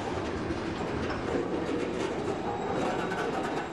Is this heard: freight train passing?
yes